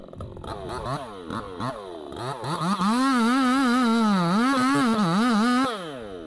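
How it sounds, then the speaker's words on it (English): A chainsaw cuts an opening into the trunk of a large cedar on the west coast of British Columbia, its engine loud and close, first revving in short bursts and then holding a steady, wavering whine before cutting off. "The tree cutter is making an opening in the tree trunk with a chainsaw."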